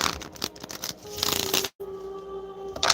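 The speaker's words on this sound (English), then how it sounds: "let me shuffle" Cards riffle and shuffle in quick fluttering bursts, close by, with a brief pause before another run of shuffling.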